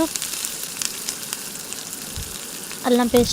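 Ginger paste is stirred into hot oil left over from deep-frying fish for a Telangana-style pickle, giving a soft sizzle with light scraping, and a brief tonal sound near the end.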